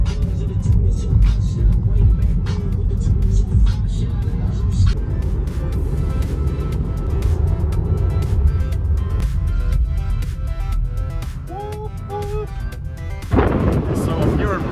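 A car cruises along a California highway toward Las Vegas, heard from inside as a steady, loud low rumble of road and wind noise with a few faint tonal chirps near the end.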